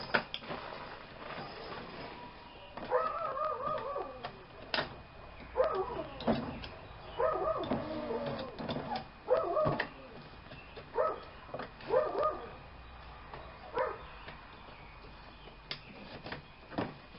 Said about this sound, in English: the dogs are getting riled up, and it's riling up my dog